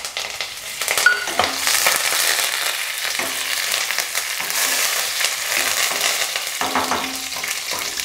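Roasted peanuts and curry leaves fry in hot oil for a lemon rice tempering, a steady close crackling sizzle with occasional stirring scrapes and small pops throughout.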